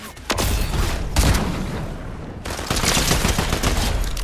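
Rapid bursts of Fortnite gunfire fill the stretch, dense volleys of shots broken by a short lull before a second loud sustained barrage; no voices over it.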